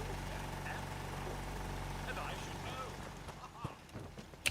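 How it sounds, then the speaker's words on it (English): A car engine in the Fallout 4 video game idles with a steady low drone throughout, joined late by a few sharp clatters and thumps close by. "let's get up away from that engine, which was very noisy"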